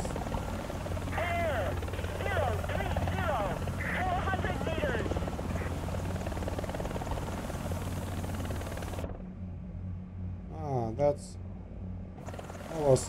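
A helicopter in the video game War Thunder drones with a steady rotor roar throughout, while someone talks over it with in-game sounds cutting in near the end.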